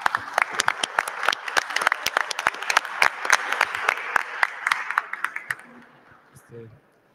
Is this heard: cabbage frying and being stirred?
no